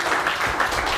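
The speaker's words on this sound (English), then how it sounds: "Give a big round of applause" Audience applause at a spoken-word performance, a steady wash of many hands clapping throughout, fairly loud and continuous, with no talk over it.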